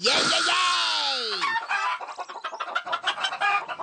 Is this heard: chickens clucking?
yes